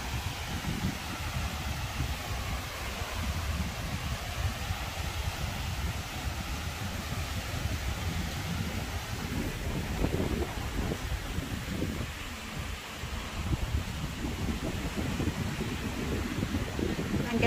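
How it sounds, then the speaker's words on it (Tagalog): Strong wind buffets the microphone with constant roaring, gusty rumble that never lets up, loud and close. "Sobrang hangin."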